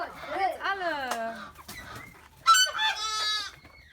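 Farm fowl call out with warbling clucks and a harsh crowing cry, close and fairly loud, several calls in a few seconds, with a voice talking briefly alongside them.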